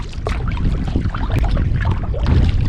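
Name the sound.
kayak paddling on water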